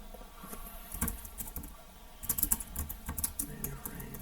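Keys clatter on a computer keyboard in irregular bursts of typing, moderately close and fairly quiet, with brief pauses between clusters of keystrokes and no talk.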